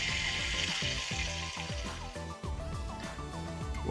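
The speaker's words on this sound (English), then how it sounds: "Listen to that sizzle." Bacon-wrapped, chipotle-infused meatloaf sizzles with a steady, close hiss that runs under continuous melodic background music, with no talking.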